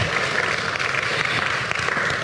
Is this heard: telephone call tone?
no